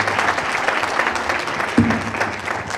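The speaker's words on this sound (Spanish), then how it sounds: "por favor, un aplauso por todo el esfuerzo que se ha hecho" An audience at a Bolivian internet governance forum panel session applauds, a dense steady wash of clapping from many hands in a hall, fairly loud and continuous throughout.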